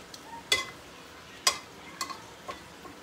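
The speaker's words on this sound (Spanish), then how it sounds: "Aquí están los chiles ya, pasándolos por el aceite para poderlos dorar" Dried chiles are turned in hot oil in a pan for red mole, with sharp sizzling crackles and spoon scrapes popping out every second or so over a faint steady fry.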